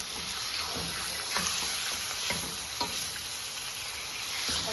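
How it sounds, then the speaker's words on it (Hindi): About a kilo of chicken pieces sizzles and spits in warm oil in a kadai, a steady bright hiss with small crackles and faint stirring knocks, fairly quiet and close. "we will now add that into the pan as the oil is nice and warm"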